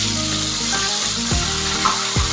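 Marinated halwa fish pieces sizzle steadily in hot oil tempering, a continuous close frying hiss with a few stirring scrapes, no voices.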